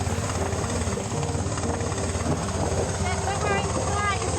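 A rescue helicopter at a freezing Loch Ness water rescue, its rotor thudding loud and steady at close range, with voices faintly under the engine roar.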